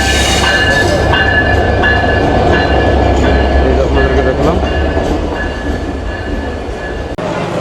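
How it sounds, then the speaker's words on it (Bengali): Benapole Express train and its locomotive running between Faridpur and Dhaka, Bangladesh: a loud, continuous close rumble of rolling wagons with a voice talking over it. "এই যে বেনাপুল এক্সপ্রেস ট্রেনের লোকোমোটিভ"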